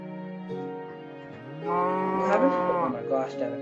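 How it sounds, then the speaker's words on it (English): Cows mooing in Minecraft, several drawn-out lowing calls rising and overlapping, fairly close and loud, with no talking. "These cows won't die."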